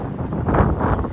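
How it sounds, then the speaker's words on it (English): Strong gusting wind on a hill farm in March, a loud, close low roar buffeting the microphone and swelling toward the middle of the clip, with no talking. "Winds are up to 61k gusts, which is the heaviest we've ever had up here that's recorded."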